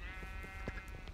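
A sheep bleats in a video game, a single sustained wavering bleat, faint and close, with soft clicking sounds underneath.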